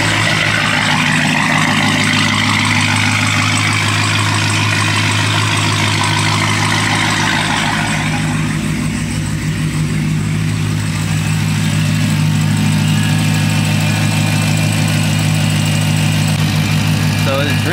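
A Hellcat left idling to test for overheating after added coolant runs steadily with a deep, even rumble throughout, loud and close, with a faint shift in its tone midway.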